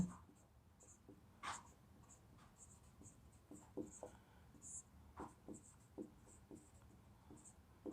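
Chalk or marker strokes tap and scrape across a board as physics equations for a car on a circular road are written, short irregular scratches in a quiet room.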